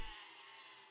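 Brief sheep bleat in the Besiege physics siege game, a single faint, thin cry lasting under a second, heard alone.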